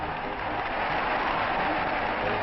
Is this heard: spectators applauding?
yes